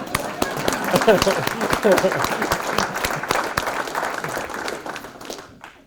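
Steady applause from a room of people, sustained for several seconds with voices mixed in, gradually thinning out toward the end.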